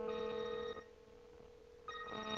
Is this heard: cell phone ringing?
yes